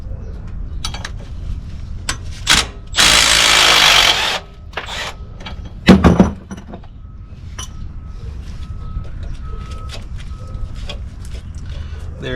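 A power tool spins out loosened 13 mm bolts from the rear differential of a 2007-2014 GM Yukon, Tahoe or Escalade, with a loud sustained whir and a shorter burst later, amid clinks and workshop noise.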